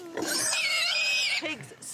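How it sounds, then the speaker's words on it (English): Pigs squealing loudly while having their ears cleaned, a sustained, piercing, high-pitched shriek up close that breaks off into shorter grunting squeals. "Pigs squeal. I mean, they squeal as if they're being murdered, and they fight."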